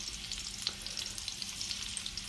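Hilsa fish roe coated in oil and spices sizzles steadily in a hot pan, a continuous close frying hiss with a brief louder crackle and light stirring scrapes, no voices.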